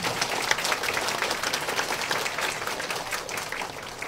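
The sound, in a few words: audience applause at book launch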